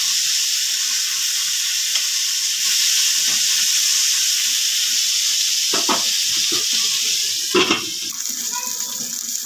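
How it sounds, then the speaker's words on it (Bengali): Brinjal fries in hot mustard oil in a kadai for Bengali shukto. A steady, loud sizzle and hiss runs throughout, with a few stirring clatters and a brief louder burst near the end. "বেগুনগুলো ভাজা হয়ে গেছে,"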